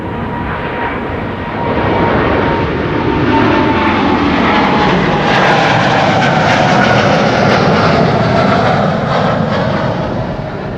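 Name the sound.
Boeing 787-9 Dreamliner departing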